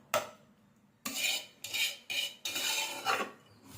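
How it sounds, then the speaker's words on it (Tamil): A spoon scrapes ground, sautéed masala paste out against a metal vessel in five short, faint strokes, with quiet gaps between them and no voices. "இந்த மசாலாவையும் இதில் போட்டுடலாம்"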